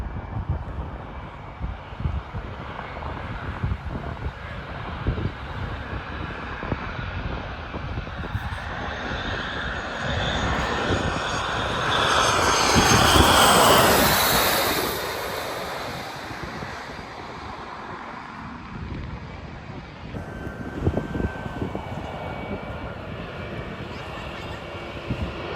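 A private jet's engines roar at Phuket airport, swelling into a broad whooshing peak midway and then easing off, heard over gusty wind on the microphone with people talking nearby.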